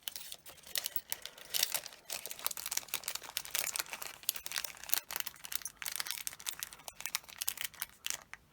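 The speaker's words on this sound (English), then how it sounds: "The notes, I'm just going to fold them up into a little square just so they'll fit inside my little bags." Paper banknotes being folded by hand into small squares for cash-stuffing bags, with dense close crinkling and crumpling rustles coming in quick irregular bursts, quiet overall and with no voices.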